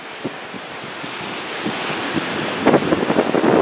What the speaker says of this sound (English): I don't know if you can even hear me over the wind and everything